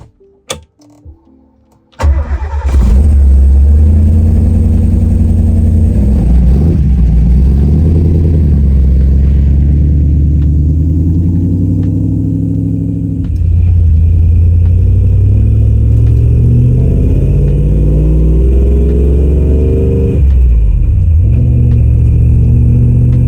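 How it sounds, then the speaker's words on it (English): A 1970 Ford Bronco Sport 4x4 with a Coyote engine swap fires up and pulls away with a loud, close exhaust rumble, rising and falling through repeated accelerations and gear changes. "Let's take this Bronco for a ride."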